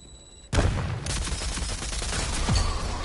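Gunfire in the Rogue Company video game: a sudden loud burst of rapid shots opens a sustained clattering fusillade, with another sharp blast near the end, close and dense throughout.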